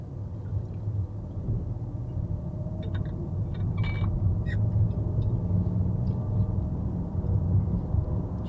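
A manual car's engine pulls uphill during a beginner's driving lesson on a sloping street. A steady, loud low rumble holds throughout from inside the cabin, with a few faint clicks and rattles over it.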